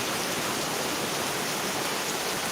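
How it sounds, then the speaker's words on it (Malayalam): Heavy rain pours steadily in a dense, unbroken hiss, close and fairly loud throughout, with no voices. "നല്ല സൂപ്പർ മഴയാണ്"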